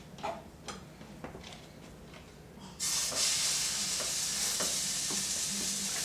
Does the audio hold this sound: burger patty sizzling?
yes